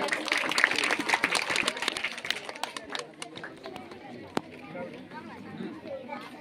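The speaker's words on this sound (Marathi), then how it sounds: "जोरदार टाळ्या" Audience applause at a school essay-writing competition prize ceremony in Fatehpur, a dense wash of clapping loudest at the start and tapering off over several seconds, with crowd chatter mixed in.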